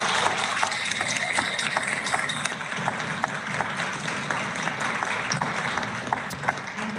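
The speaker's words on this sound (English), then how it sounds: "Let's give them another round of applause." An audience at a school board meeting applauds, with many hands clapping in a fairly quiet, even patter that sounds slightly distant.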